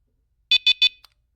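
A Wi-Fi water leak detector sounds its test alarm as three short, shrill electronic beeps in quick succession, with a faint fourth chirp after them, close and clear with nothing else heard.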